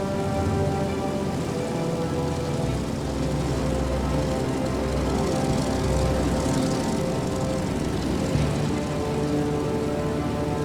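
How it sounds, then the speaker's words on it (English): A WW2 propeller plane taxiing out to the runway, its engine a continuous droning rumble with steady hiss like rain on a surface, constant and unbroken throughout. "Locked, loaded, and finally ready to go, Scott and AJ taxi out."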